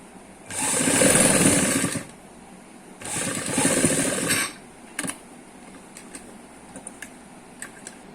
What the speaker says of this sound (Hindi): और फिर हम यहाँ पर एक सिलाई लगा लेंगे।